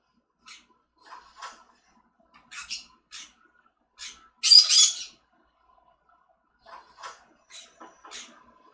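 Pet birds indoors give scattered chirps and short squawks, with one louder harsh squawk in the middle, all close by in a quiet room.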